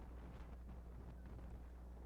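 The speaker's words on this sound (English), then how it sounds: "It is windy." Wind buffeting a microphone at an outdoor college football stadium in raw, rainy conditions, a faint, low rumbling gust that holds steady without voices.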